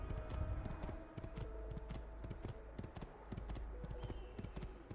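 Horses in the video game Assassin's Creed II, with steady hoof clip-clops on hard ground rising and falling through a busy, continuous background of other in-game sounds.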